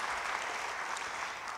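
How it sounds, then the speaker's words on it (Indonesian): A church congregation applauds for the preacher during a sermon, a dense, continuous wash of clapping held at an even level throughout, with no voices standing out. "Beri tepuk tangan bagi dia"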